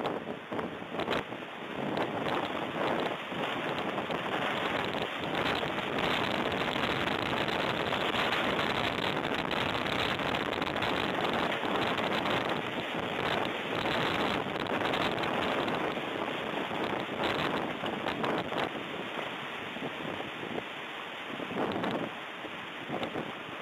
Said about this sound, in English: large gusts of wind blowing down trees and sending debris flying.